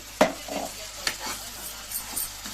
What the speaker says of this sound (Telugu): బాగా మసాలా అంతా బాగా ఫ్రై చేసుకోవాలి